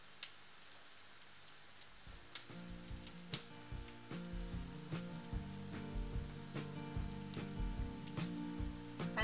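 Spices sizzle in hot oil with garlic and coconut in an Indian dal palak pan, a soft crackling sputter that grows louder after a couple of seconds, with scattered sharp pops over a steady hiss.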